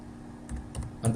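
An email ID is typed on a computer keyboard at a login window. A few quick, close keystrokes sound over faint room hum, ending in a firmer tap, and no one talks.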